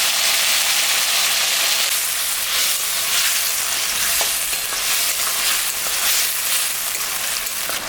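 Green chili, ginger, white sesame and cumin paste sizzles loudly in a pan for a raw plantain kofta dish, a steady, dense frying hiss with faint stirring scrapes, close up and with no talking.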